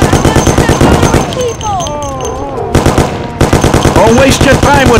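In the video game Mafia, a machine gun fires loud rapid bursts that stop briefly midway and then resume, with shouting voices in the mix.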